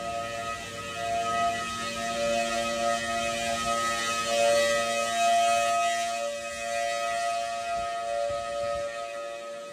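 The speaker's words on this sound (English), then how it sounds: "sirens give warnings as the twister slams through" Civil defense tornado warning sirens sound as a twister tears through, a steady, loud, sustained wail that holds for the whole stretch over a rough roar of wind.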